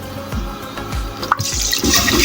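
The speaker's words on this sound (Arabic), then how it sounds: "عم نعبيهم مي." A cooking pot in a home kitchen being filled with water from a tap, a steady close running-water rush with occasional clunks and sloshes as the vessel fills.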